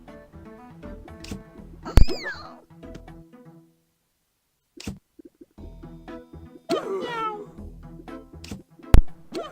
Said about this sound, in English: Patience, young cat.